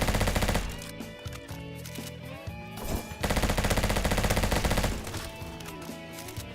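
Rapid automatic bursts of M4 rifle hipfire in the Roblox shooter Bad Business, loud and close, in several sustained strings separated by brief pauses, with no talking.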